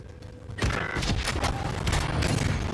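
Rapid bursts of video game gunfire crackle loud and close after a brief quiet lead-in, a dense volley of shots running continuously to the end.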